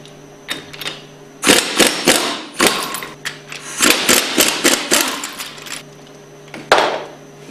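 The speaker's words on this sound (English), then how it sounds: "Use your 1-inch socket to remove the valve caps." Socket wrench taking the valve caps off a Powerline plunger pump, a run of sharp metallic clicks and ratcheting clatters in irregular close bursts with short pauses between.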